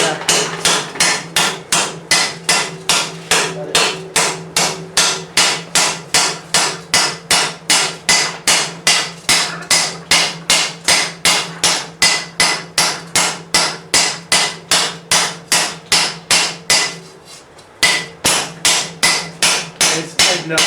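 A hammer strikes a steel sallet helmet over and over as the metal is raised. The blows fall in a fast, even rhythm, loud and close, with one short pause near the end.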